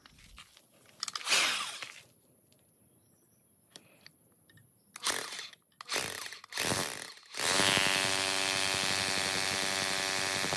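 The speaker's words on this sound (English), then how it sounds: "I'm going to go ahead and start drilling and get to it" A power drill bores anchor-bolt holes into a shed base in several loud, separate bursts with quiet gaps between them, followed by a steady, sustained whine at the end.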